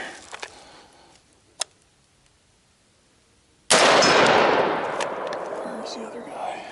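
A 7.5-inch SBR AR-15 rifle fires one loud, sharp shot on an outdoor overland shooting course, followed by a long roaring tail. A few faint clicks come before it.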